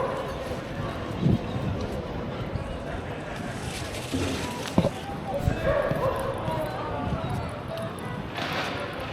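A dog barks a few times in a busy outdoor plaza in Valencia, Spain, the short barks and yips standing out over steady crowd murmur and footsteps, with people talking nearby.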